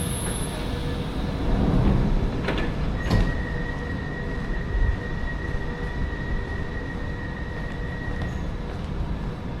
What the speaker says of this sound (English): Why can I hear his door chimes?